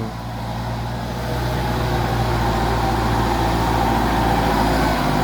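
Bulldozer pushing earth on a rough haul road at a dump site: a steady, loud diesel engine rumble with a deep idle-like drone that grows slightly stronger and holds constant throughout, no voices.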